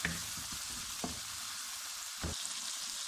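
Tomatoes fry in a pan for Lahori egg korma, a soft continuous sizzle with a few faint clinks of stirring, quiet and steady with no voices.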